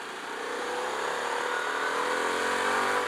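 A pre-production Harley-Davidson Pan America motorcycle is ridden in road mode, with a steady, loud engine drone and wind rushing close by that slowly builds under throttle, and no talking.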